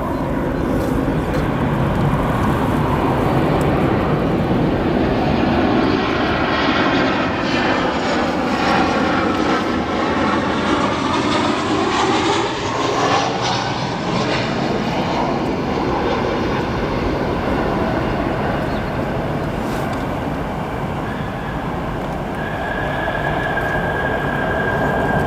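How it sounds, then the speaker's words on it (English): A United Airlines Boeing 737-800 arriving at Chicago O'Hare airport, a loud, sustained jet engine roar with a sweeping, shifting whine as it passes close by, steady for the whole stretch with no talk. "That arrival, United Airlines 737-800."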